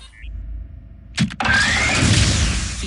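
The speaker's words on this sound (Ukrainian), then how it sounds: "Тримай двигун на холостому ходу." A vehicle engine cranks with a sharp catch, then fires and settles into a loud, steady idle rumble close by, with no talking.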